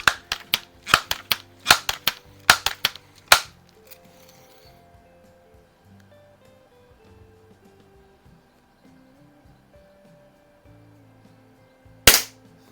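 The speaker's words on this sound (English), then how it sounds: "let's go ahead and see if we can do any better with pellets" A Crosman 760 first-variant air rifle fires pellets in a quick series of sharp, close cracks, about seven shots in rapid succession, then quiet handling noises and one more shot near the end.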